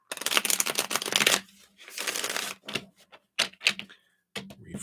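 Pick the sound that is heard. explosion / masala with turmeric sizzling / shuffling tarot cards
shuffling tarot cards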